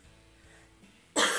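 One sharp, loud cough from a woman with a cold erupts abruptly near the end after a moment of near silence.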